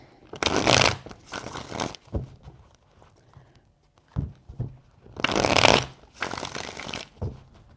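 A deck of tarot cards is shuffled close by in four distinct bursts of riffling, two early and two later, with softer card taps and handling between them.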